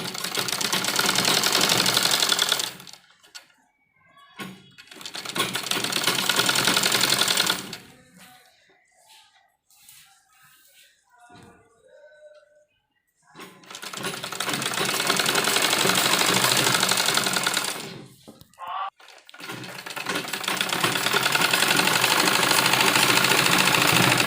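A sewing machine stitches seams on pieces of an old dupatta being made into a kurti, running in long steady bursts with a quieter pause between them where a voice speaks briefly.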